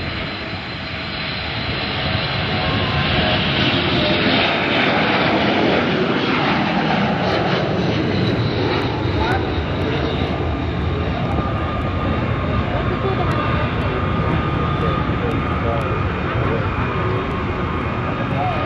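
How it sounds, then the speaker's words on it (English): A KC-135R tanker fitted with four General Electric CFM56 engines takes off at a naval air station air show, a loud, steady, broad jet roar that builds and holds close throughout, with faint talk beneath it. "A KC-135 tanker will be taking off on your right."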